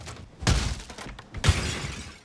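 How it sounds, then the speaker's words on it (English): Random objects smashed in a video game: two loud, crashing breaks about a second apart, each a short shattering burst with a heavy thud beneath it. "most of the time, I was just smashing random objects."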